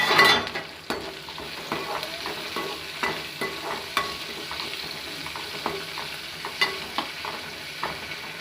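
Onion and curry leaves fry in a pan for a kathirikai urulaikizhangu poriyal, with a constant sizzle and regular, close scraping strokes from stirring about once a second.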